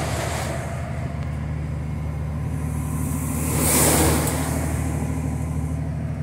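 Loaded VW Meteor 28-460 truck with a MAN D2676LF94 engine climbing a grade in fifth gear, a close, steady low engine drone that swells slightly midway with a rush of wind or road noise, and no talk.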